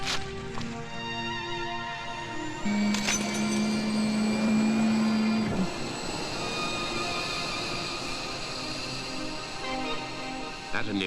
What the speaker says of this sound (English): At a nearby fighter base, F-16s, one of NATO's latest interceptors, roll to what the young Norwegian pilots call a hot scramble.